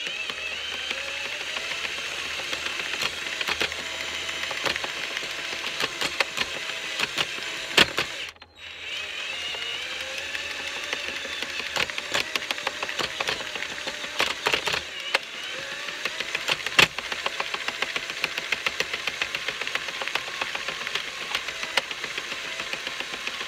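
An Addi King Express knitting machine being cranked while making a hat with a brim runs continuously, giving off a steady mechanical whirring with repeated clicks and knocks. A brief drop interrupts it partway, after which the cranking resumes at the same level.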